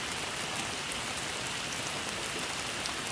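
Steady rain falls, a dense even hiss of drops on a surface that continues unchanged throughout.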